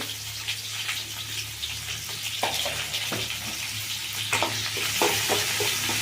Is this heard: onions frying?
yes